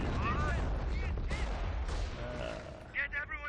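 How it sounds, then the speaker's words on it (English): Mortar rounds fall on an enemy position during a Company of Heroes match, heavy booming blasts and crackling gunfire over a low rumble, with game voices calling out in the battle noise. "there is the forced mortar on the enemy's position"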